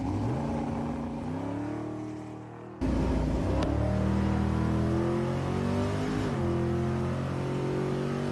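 Drag racing cars at Tulsa Raceway Park rev hard in the background, a loud sustained engine drone with rising and shifting pitch that jumps louder partway through and keeps roaring steadily; no talk.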